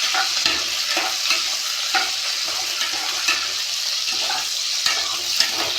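Onions and other ingredients stir-fry in a hot pan for a lentil dish, with a constant close sizzle broken by repeated scraping strokes of a spoon.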